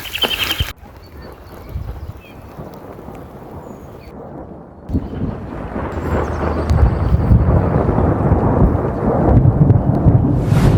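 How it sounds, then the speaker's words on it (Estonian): Thunder from storm clouds rolls over a disc golf course in the rain, a deep rumble that builds and grows louder toward the end, with rainfall and outdoor noise around it. "ning saapusid äiksepilved. Natukene sajab praegu"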